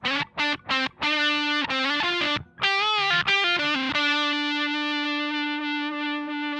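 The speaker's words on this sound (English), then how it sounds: "the way a fuzz pedal sounds, where it is changing the sound of your guitar quite a bit" Guitar through a fuzz pedal, loud and buzzy: a run of choppy, thick fuzzed notes with brief gaps, ending on a long sustained fuzzed note that rings out.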